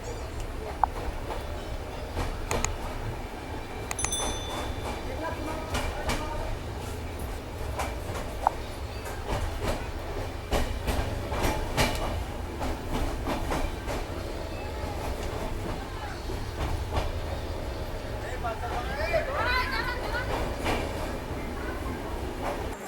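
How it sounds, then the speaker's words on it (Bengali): The 13147 Uttarbanga Express rolls steadily out of Bardhaman Junction, a continuous near rumble of wheels and carriage noise with scattered clicks and rattles, and no talk over it. "ট্রেন ছাড়লো বর্ধমান জংশন থেকে প্রায় 15 মিনিট"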